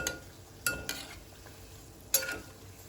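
Vada frying in oil in a pan over a medium flame, a soft steady sizzle with a few sharp clinks of a utensil against the pan, quiet and close, no voices.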